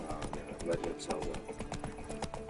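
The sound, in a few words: horse Roach galloping off-road in video game The Witcher III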